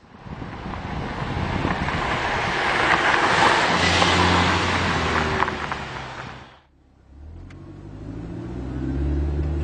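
A Mercedes-Benz C230 Kompressor Sport drives down the road, a broad steady rumble of engine, tyre and wind noise from inside the cabin, easing off near the end before building again.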